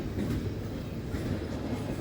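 A train passes close by with a steady, heavy low rumble and wheel noise that holds for the whole moment. No voices.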